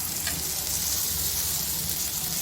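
Puran poli roasting on a hot tawa while vegetables fry nearby, giving a steady, dense sizzle that runs unbroken and fairly loud throughout, with no voices.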